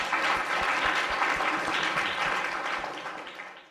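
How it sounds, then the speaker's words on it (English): Sustained applause from a sizable crowd at a forum panel, dense and steady clapping that gradually fades toward the end. "Let's give them a round of applause."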